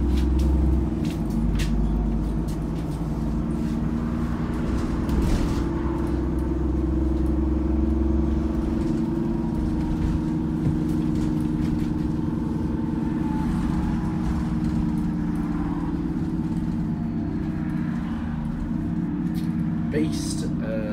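A Dennis Trident 2 double-decker bus with Alexander ALX400 bodywork, run by National Express West Midlands, idles nearby with a steady, deep diesel rumble that holds constant throughout, under a faint background hum.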